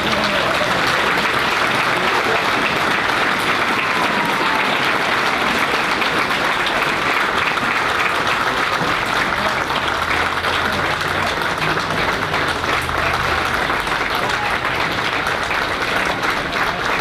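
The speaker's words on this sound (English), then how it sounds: "Please give a big round of applause to Command Sergeant Major Weston" Sustained loud audience applause at a 1st Cavalry Division military award ceremony at Fort Cavazos, steady dense clapping throughout with no break.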